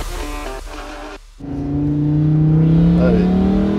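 Lamborghini Huracan Evo V10 engine cranking over after a short pause, then settling into a loud, steady idle that rises into a revving swell, close by, with voices briefly over the start.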